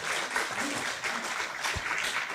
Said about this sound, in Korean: 세 분께 큰 박수 부탁드립니다.